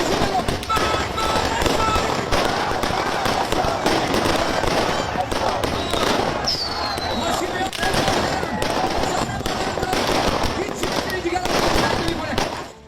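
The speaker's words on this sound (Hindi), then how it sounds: "आतिशबाजी हो रही थी ईरान में।" Fireworks going off in Iran in a dense, continuous barrage of crackling bursts and pops, loud and sustained throughout with no voices.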